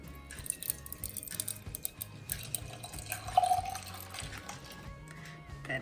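Chilled milk is poured over ice in a glass while making Dalgona coffee. It gives a soft, close, trickling liquid sound with faint clinks, quiet and unbroken.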